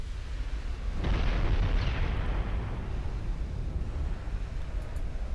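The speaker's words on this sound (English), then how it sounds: "Yeah, more and more guns are firing now." Heavy battleship guns fire in a naval battle in Ultimate Admiral Dreadnoughts, giving deep rolling booms that swell about a second in and rumble on over constant low background noise.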